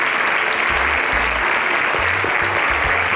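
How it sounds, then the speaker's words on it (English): A grand finale audience at a tech competition applauds the finalists with dense, loud, sustained clapping that fills the whole moment without a break. "Can we give a round of applause to..."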